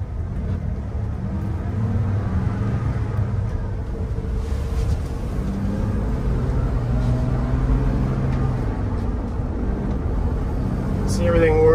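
A 1992 Ford Bronco drives and builds up to speed, its engine a steady low rumble with road noise throughout, rising slightly toward the end.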